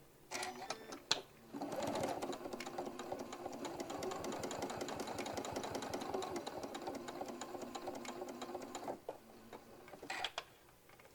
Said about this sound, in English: while we're at our machine, we're going to go ahead and top stitch all the way around